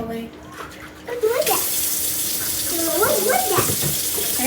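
Running tap water filling a vessel for fabric dyeing, starting as a faint trickle and then gushing loud and steady, while people talk over it.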